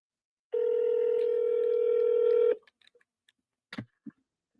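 A steady telephone tone sounds for about two seconds during an unanswered call, followed by a few faint clicks and short beeps on the line.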